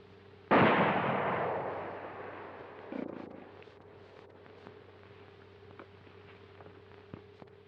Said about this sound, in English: Where'd you learn to shoot that way?